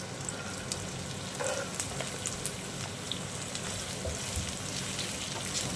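Capsicum added to sautéed onion frying in a pan for soya chilli, a steady dense sizzle with faint stirring clicks, close and continuous, no talking.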